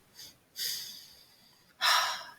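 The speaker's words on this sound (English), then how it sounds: "Long, deep sniffs." Two long, deep sniffs through the nose, close to the microphone, each a drawn-in breathy rush, with a short softer breath before the first.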